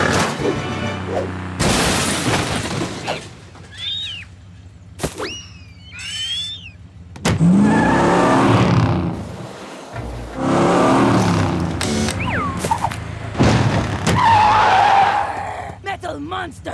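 A cartoon car spins donuts in a jungle, with long screeching tire skids, loud engine revs and booming bursts, interrupted by brief pauses and cartoon voices and effects between the skids.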